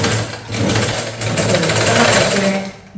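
An electric-motor sewing machine stitches in a steady rapid whir, its motor speeding and slowing in short bursts, loud and close with no voices.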